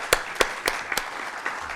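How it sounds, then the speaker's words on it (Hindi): An audience at a panel discussion on vocational and higher education gives a short burst of applause for the panelists, a few distinct sharp claps spaced apart over light room noise, with no talking. "हमारे पैनलिस्ट के लिए और शोएब बैल के जोरदार तालियां बजाते हैं"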